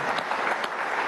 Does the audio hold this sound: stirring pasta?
no